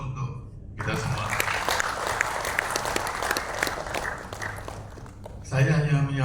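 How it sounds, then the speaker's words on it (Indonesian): An audience at an international Hindu organization conference in Balikpapan applauds loudly for several seconds. A voice speaks briefly before the clapping and again as it fades. "Aplaus untuk kita semua."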